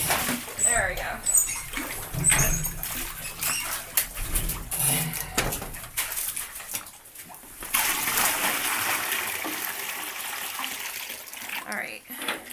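A bucket thrown down into water to fill it for off-grid laundry, with splashing and sloshing under a speaking voice, louder watery rushing in the later stretch.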